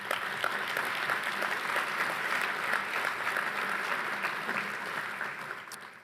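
At a university summit on modern conflict and emerging threats, the audience gives a steady round of applause after a panel discussion, fairly faint and even, tapering off at the end.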